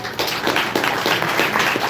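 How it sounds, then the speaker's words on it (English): Brief round of applause from a meetup crowd at a brewery, welcoming a speaker; steady dense clapping from many hands at moderate volume throughout. "Give a round of applause for Eric"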